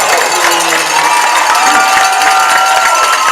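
A high school football crowd at a Neenah versus Kaukauna game roars and cheers after a big catch, a loud, sustained wash of voices with whistles and shouts, broadly spread and continuous.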